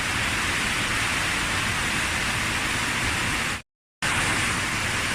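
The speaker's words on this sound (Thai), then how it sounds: "โอ้ยฝนตกหนักเลยฝนตกฝนตก ที่เชียงตุงฝนตกนะคะตอนนี้" Heavy rain pouring down in Kengtung, a loud, dense, continuous roar of water close by that cuts out abruptly for a split second before resuming at full strength, with no voices.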